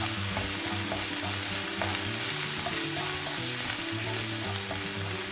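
Onion, garlic and ginger sautéing in a pan for chicken cutlets, a loud, constant sizzle with rhythmic scraping as they are stirred.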